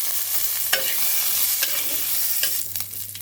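Green chilies frying and being stirred in a pan for a taro leaf dish, with a steady sizzle under a low hum and a few sharp scraping stirs.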